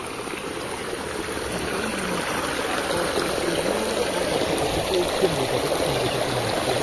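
A river runs over a rocky bed of hot, steaming water, giving a steady, broadband rushing flow that stays even and fairly loud throughout.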